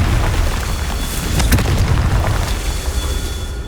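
A Confringo fire spell from the Hogwarts Legacy video game explodes in a loud, sustained roaring boom with crackling bursts, a heavy low rumble that holds at full strength for the whole stretch.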